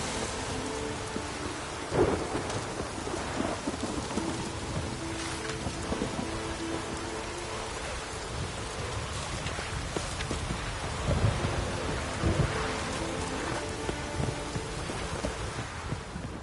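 Steady rain and rolling thunder in The Witcher video game, a continuous wash of rainfall with several deep thunder rumbles swelling and fading across the whole stretch, no talk over it.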